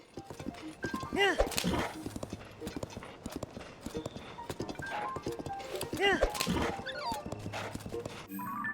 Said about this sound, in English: You just let your horse do all the work.